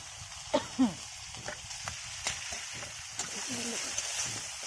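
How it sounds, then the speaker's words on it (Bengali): Quiet, steady sizzle of chilli spice paste frying in hot oil, with faint clinks and scraping of a spoon stirring in the pan. "মশলা ভাজা হয়ে গিয়েছে এবারে হালকা তেল ছেড়ে দিয়েছে"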